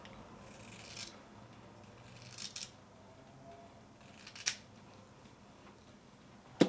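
Scissors snip through straightened hair in a home layering trim, a few quiet, separate cuts spaced about a second apart, close by against a faint, hushed background.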